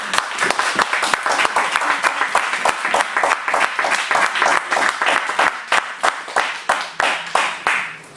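A church congregation applauding loudly during worship, dense rhythmic clapping that keeps pulsing steadily throughout, close and full, with a few voices briefly calling out in acclaim.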